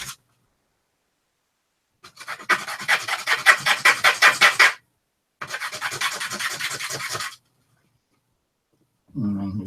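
Close rapid back-and-forth rasping as a small saw cuts a wood piece for a miniature table, in two bursts of a couple of seconds each separated by a short pause, with a brief voice at the end.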